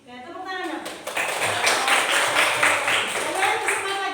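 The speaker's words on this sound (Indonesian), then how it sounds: "tepuk tangan dong" Children in a classroom lesson clap their hands together in a brisk, dense burst of claps that starts after a moment and keeps going, with voices mixed in.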